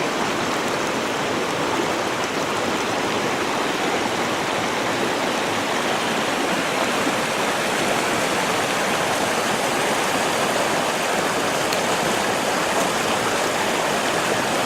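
A flooded creek roaring as a raging river near a bridge, a dense, constant rush of churning water that stays loud and unbroken from start to finish with no voices.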